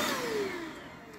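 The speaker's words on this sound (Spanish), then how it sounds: "esta es la aspiradora" A Redroad V17 double-roller cordless vacuum cleaner runs nearby with a loud steady motor whine whose pitch glides downward as it winds down or changes mode, with no talking.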